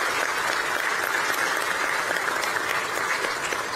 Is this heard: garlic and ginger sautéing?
no